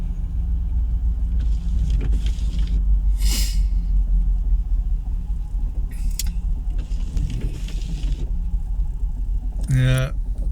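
Jaguar XKR engine idling roughly, a steady low rumble that wavers throughout, with brief clicks and a short rattle near the end, and some voice underneath.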